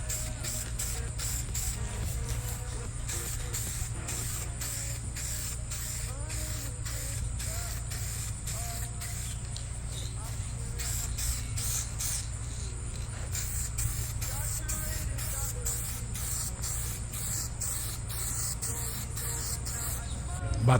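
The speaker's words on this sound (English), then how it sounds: "Time to add the clear coat." Aerosol clear coat sprayed onto a black-painted wing for an RC car, a steady close hiss running almost unbroken for about twenty seconds with brief pauses and faint rattling.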